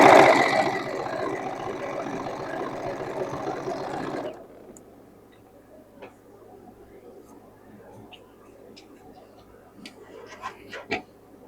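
A sewing machine stitches fabric for a summer halter dress in a loud, steady whirring run for about four seconds, then stops abruptly, leaving quiet handling clicks and faint rustling.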